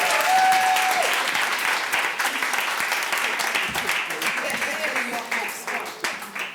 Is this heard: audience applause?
yes